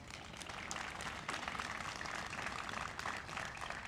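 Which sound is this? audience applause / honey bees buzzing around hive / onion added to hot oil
audience applause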